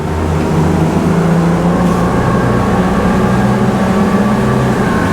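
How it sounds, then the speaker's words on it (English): XO DFNDR 9 boat with its engines trimmed all the way down, accelerating hard onto the plane: a loud, steady, close-up engine roar that holds its power throughout with no talk over it. "Pop straight up on the plane, so you feel that acceleration quite noticeably"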